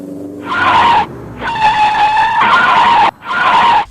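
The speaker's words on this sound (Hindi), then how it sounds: "अरे मेरी गाड़ी झटके मारकर रुक गई।" A cartoon car jerks to a stop after its tires are punctured by spiked nails on the road, with loud close screeching skids in several choppy bursts.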